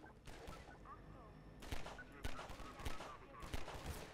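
Gunfire in the video game Half-Life 2 comes as several sharp, loud shots in irregular bursts, with quieter game sounds in between.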